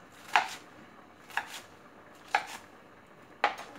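Four sharp knife chops cut lettuce on a board at steady spaced intervals, each a crisp close knock, with quiet room tone between and no talk.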